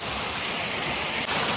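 Kenegundi Karsalagadde waterfall near Bhatkal: a steady, loud, close roar of falling water, broadband and unbroken throughout.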